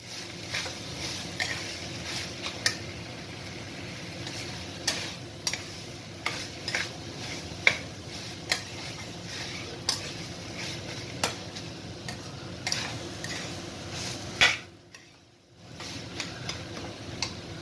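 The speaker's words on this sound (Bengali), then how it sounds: "মটরটাকে একটু নাড়াচাড়া করে নেব" Minced chicken and peas sizzle softly in a pan while a spoon clicks and scrapes against the metal at irregular intervals, then a brief quiet pause near the end.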